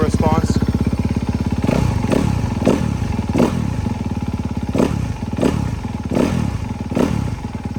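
A stock Honda CRF250 dirt bike engine idling as it warms up, with a steady close rumble broken by about seven sharp throttle blips at regular intervals, loud and with no talk over it.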